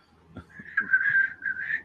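A voice imitates a high, wavering whistle, a sustained tonal note that rises and dips over about a second, preceded by a few short breathy bursts.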